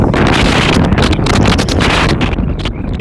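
Strong wind buffeting a microphone outdoors at a girls' soccer semifinal, a loud, continuous rumbling roar with gusty flutter throughout.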